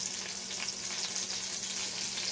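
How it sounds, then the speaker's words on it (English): Sweet potato and black bean burger patty frying in a pan, a steady close sizzle and crackle that runs unbroken throughout. "kind of mold it while it's frying"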